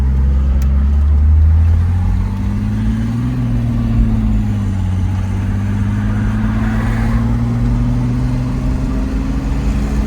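1971 Mercedes-Benz 280SL cruising at about 50 on the road after a coil replacement, a steady low engine drone with a slight pitch rise and dip as the transmission shifts, close and continuous.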